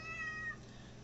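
A house cat gives a single short, faint meow indoors, with a thin tonal cry lasting about half a second before fading into quiet room tone.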